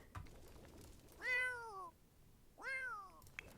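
Elderly, hungry cats give two drawn-out, descending meows, close and clear, with a quiet pause between them in an otherwise still room.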